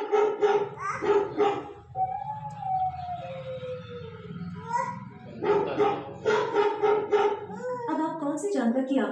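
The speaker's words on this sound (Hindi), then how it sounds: "एलेक्सा, कुत्ते की आवाज़ निकालो।" An Alexa smart speaker plays a dog barking sound, a run of repeated barks, fairly close and loud, with a rising wail in the middle.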